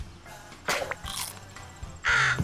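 Cartoonish crow caws from the Scribblenauts video game ring out in short, loud bursts, separated by quieter game ambience.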